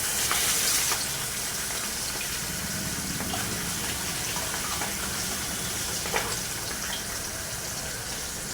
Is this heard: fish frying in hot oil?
yes